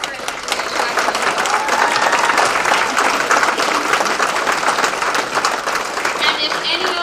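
Guests at a chamber of commerce awards dinner give a sustained round of loud applause, thick continuous clapping with a few cheers mixed in, lasting throughout.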